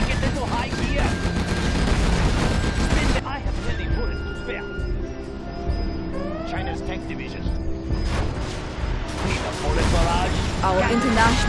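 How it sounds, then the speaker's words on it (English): A Gatling tank barrage in Command & Conquer Generals Zero Hour: loud, sustained streams of rapid fire open and close the stretch, a quieter mechanical lull sits between them, and game voices speak throughout. "Gun barrel spinning. Need a bullet barrage. Spin them up."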